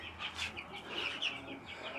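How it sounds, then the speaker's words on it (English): A crowded indoor chicken coop holding many chickens, with overlapping clucks and chirps coming close and steady throughout, no talking. "Lots and lots of chickens."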